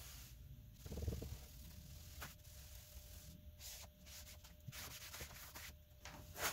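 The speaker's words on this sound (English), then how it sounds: "Just going to wipe the majority off." A rag rubbing and wiping paint off an old piece of painted furniture, soft repeated scrubbing strokes with a low thump near the start, close and fairly quiet with no talking.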